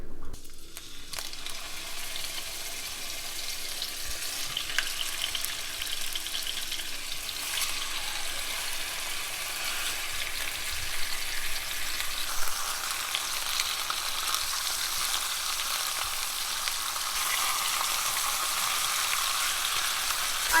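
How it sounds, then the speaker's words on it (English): Birria meat searing in olive oil in a pan over medium-high heat, a dense, continuous crackling sizzle that stays loud and close throughout. "Setting our pan to medium high, and gonna add a little bit of olive oil."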